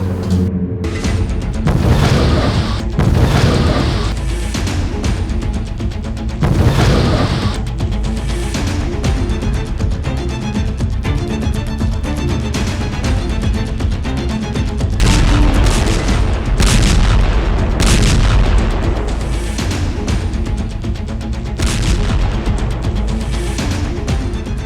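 Russian artillery shelling on the Ukrainian front, a loud series of heavy booms and blasts repeating at irregular intervals, with sharp cracks of gunfire mixed in throughout.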